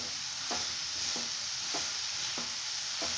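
Grated carrots fry in ghee for gajar halwa, a continuous close sizzle broken by about five evenly spaced stirring strokes, with no talking.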